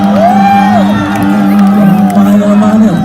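A concert crowd at a show in Pakpak Bharat cheers, whoops and shouts loudly, with a voice over a sound system carrying above the noise.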